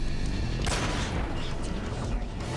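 A heavy boom bursts from gunfire during a Metal Gear Solid 3 fight, a loud near blast that rumbles and trails off under continued shooting noise, no voices.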